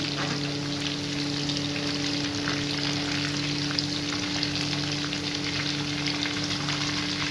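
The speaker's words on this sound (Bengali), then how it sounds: "এই যে একটু কিন্তু সময় নিয়ে ভাজতে হবে আঁচটাকে কমিয়ে বাড়িয়ে" Chicken pakora fries steadily in hot oil on a gas stove, a continuous close sizzle and crackle holding even for the whole stretch with no talk over it.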